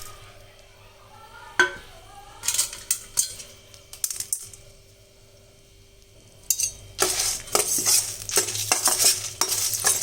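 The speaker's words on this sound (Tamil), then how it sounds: "இதில் நம்ம இந்த வறுக்கிறதுக்கு தேவையான பொருள் இதெல்லாம் நம்ம இதில் போட்டுட்டு நல்லா வறுக்கணும்." Lentils and spices being dry-roasted and stirred in a pan for ground-masala sambar, with scraping and clinking bursts of the spoon against the pan, sparse at first and then dense and continuous, close by, with no talk.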